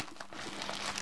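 A plastic packet of CR2032 coin batteries crinkles briefly and closely, a soft continuous rustle with no voice over it.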